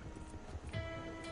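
A horse's hooves clip-clop over open ground in Red Dead Redemption 2 Online, a quick, faint run of hoofbeats heard from close behind the rider.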